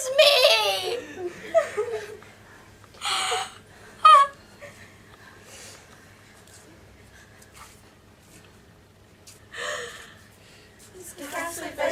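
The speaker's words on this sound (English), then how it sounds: "Her breathing's laboured. See how her utterances choke her." A stage actress in a production of The Oresteia breathes in laboured, choking gasps, with sharp catches of breath and strained, laugh-like spasms spread across the scene between quiet stretches.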